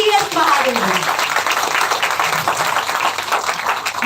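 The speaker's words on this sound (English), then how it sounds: "A big round of applause to Mr. V.S. Mahadevan." A crowd gives a big round of applause at a college session on NPAs, dense steady clapping filling the room for a few seconds while a voice is heard faintly over it.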